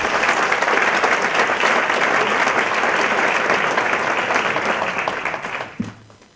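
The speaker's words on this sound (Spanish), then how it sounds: "Un aplauso, por favor." Applause at a business gala of the ASEFI association in Finestrat, dense continuous clapping from a large audience filling the room, holding steady and then tapering off quickly at the close.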